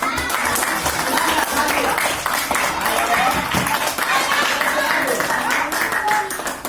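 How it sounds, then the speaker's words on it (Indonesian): Classroom group of students and teachers applauding for a presenting group, dense continuous clapping with cheering voices, loud and close throughout. "Ayo berikan tepuk tangan untuk kelompok 1 dulu"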